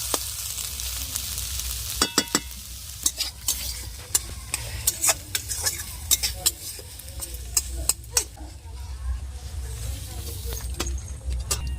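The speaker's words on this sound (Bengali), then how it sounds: "আর সব কিছু মশলা চিংড়ি আর শাকগুলো একদম ভাজা ভাজা হয়ে এসছে" Prawns and pumpkin leaves with spices stir-fry in a pan. A continuous sizzle sits under frequent sharp scrapes and clinks from the stirring utensil, which come in uneven bursts close to the pan.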